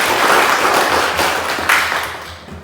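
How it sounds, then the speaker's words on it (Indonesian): An audience claps together in a dense, close burst of applause that holds steady, then thins and fades out toward the end. "Mari kita tepuk tangan dulu."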